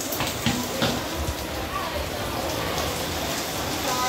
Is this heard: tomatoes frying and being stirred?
no